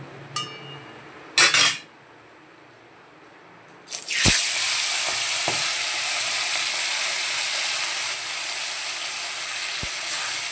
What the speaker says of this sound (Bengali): তো দেখো বন্ধুরা, ভাজা বসিয়ে দিয়েছি